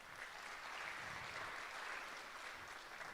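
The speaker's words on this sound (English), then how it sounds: "Can we please give a big round of clap?" Applause from the audience at a national economics debate, a faint, even wash of many hands clapping that holds steady for about three seconds. It sounds distant and no voices are heard over it.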